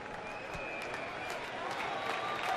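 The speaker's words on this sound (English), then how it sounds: "Listen to the crowd" A baseball stadium crowd at a Padres–Diamondbacks game makes a steady, distant roar of cheering and clapping. It holds level throughout and builds slightly toward the end.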